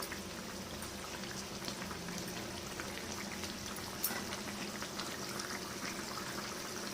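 Thin fish curry with vegetables and beans bubbling steadily in a covered pot, a dense continuous simmer with fine popping crackles throughout and no voices.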